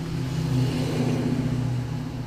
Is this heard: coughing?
no